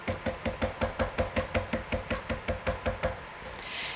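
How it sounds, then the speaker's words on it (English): Knuckles rap on the door of a small house in a long even run of about eighteen loud, close knocks, then stop and leave a faint rustle. "they knocked on the door"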